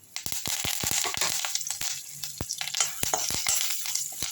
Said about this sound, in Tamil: நல்லா வறுபடட்டும்.